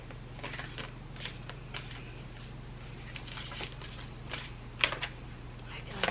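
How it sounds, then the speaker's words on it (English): Tarot cards are shuffled and handled in a series of soft, crisp paper flicks and taps while one card is drawn, close and quiet over a steady low hum. "So I'll go ahead and just pull one card for you."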